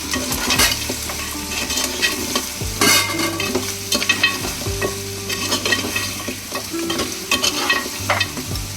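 Goat trotter curry with turmeric and salt being mixed in a pan, loud continuous sizzling with repeated spoon scrapes and clanks against the metal, busy and close, with no voices.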